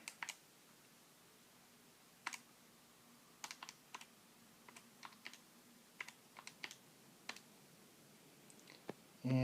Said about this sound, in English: So I need to type this out.